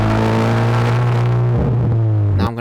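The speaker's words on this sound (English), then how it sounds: "I'm gonna grab an exhaust clip." A car's exhaust drones loud and close in a steady, deep engine note that holds for about two seconds, then shifts and drops away abruptly at the end.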